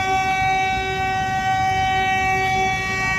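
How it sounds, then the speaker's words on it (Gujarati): A Valsad-bound train passes a level crossing while traffic waits, a loud continuous rumble of railcars under a steady sustained horn tone heard close by. "વલસાડવાળી રેલવે ચાલુ"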